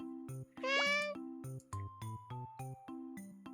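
A cartoonish cat meow rings out over a bouncy, chiming game soundtrack in the video game Cat Snap, a single rising mewing call near the start with steady synth music continuing.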